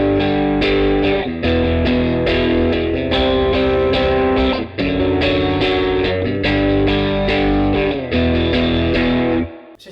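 Heavily distorted electric guitar strums full chords in a steady driving rhythm, thick and loud up close, with no voices.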